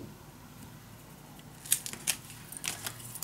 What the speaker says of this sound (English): so let me cut 2 pieces of 1 inch, just for the top